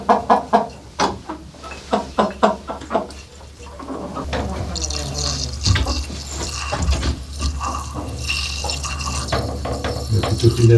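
Farmyard chickens cluck and call close by around their drinking water, mixed with splashing and running water, with people talking in the background.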